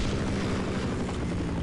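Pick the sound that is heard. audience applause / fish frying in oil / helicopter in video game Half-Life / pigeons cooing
helicopter in video game Half-Life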